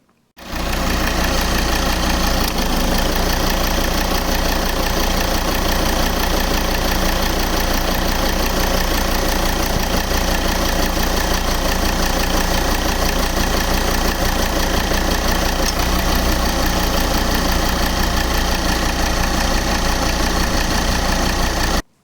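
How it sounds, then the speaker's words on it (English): Volvo XC60 engine running with its auxiliary drive belt and tensioner, a loud steady close idle drone with a fine rhythmic ticking texture, unbroken for about twenty seconds with no talk. "I've also noticed a little bit of extra tensioner movement on mine, which I didn't notice before when I originally owned it."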